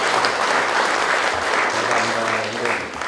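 Applause from a seated audience at a business talk on the Korean economy, a dense, loud, sustained wash of clapping holding steady for the full duration with faint murmuring beneath.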